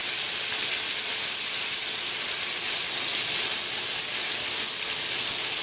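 Raw turkey bacon frying in a pan gives off a steady, bright sizzle that holds even and close throughout with no talking.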